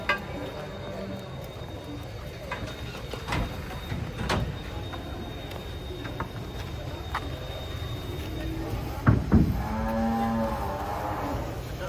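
Large Limousin cattle being unloaded from a truck moo with a low, drawn-out call near the end, while people talk and outdoor noise continues around them.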